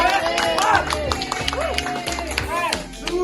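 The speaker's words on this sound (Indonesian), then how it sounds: "kita kasih tepuk tangan dulu buat Devi karena sudah berani" A classroom of students claps for a classmate, scattered hand claps rising briefly beneath a teacher's voice and pupils' chatter in a busy room.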